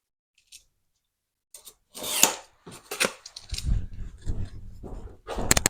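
Trimming the end of a length of 00 gauge model railway track on a new incline layout: a few short, crisp snips and rasping cuts close by, followed by low scraping handling noises.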